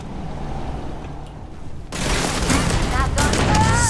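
Gunfire blasting through a floor in Starfield: a quiet opening, then a sudden loud rolling burst of shots and impacts that keeps going to the end, with a voice in the background.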